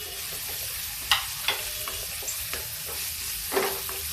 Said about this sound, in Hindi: अब इसमें हम डालेंगे हरा मिर्चा और ये प्याज